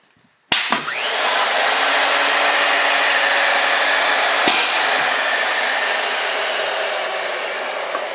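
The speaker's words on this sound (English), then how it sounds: "Real clean cut, the router, real clean." Router cutting on a Maka STV mortiser, a turret-stop depth-adjustable router, running as a loud steady high whine for about seven seconds after a sharp start, with a brief knock partway through.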